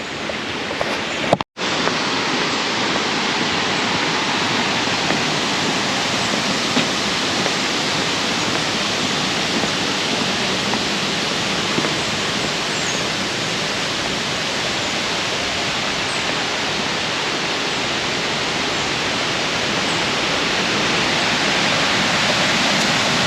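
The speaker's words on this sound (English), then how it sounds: "You can hear the waterfall behind me." A steady, powerful roar of a waterfall in the Poconos fills the air without pause, broad and rushing, with a brief break near the start.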